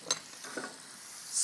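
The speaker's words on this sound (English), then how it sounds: "Melt a little butter into the olive oil." Butter melting into hot olive oil in a pan, with a quiet, low-level sizzle and a few soft clicks and scrapes, and a brief hiss flaring at the very end.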